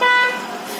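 A single short, loud vehicle horn toot sounds up close, then fades into a background of traffic and nearby voices.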